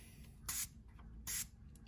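Two short, bright hissing bursts from a fine-mist facial spray bottle, spaced under a second apart, close and crisp against a quiet room.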